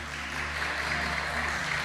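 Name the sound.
applause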